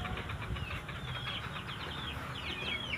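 Backyard chickens in the Philippines clucking and calling over a continuous low engine-like hum, with several birds heard at moderate distance throughout.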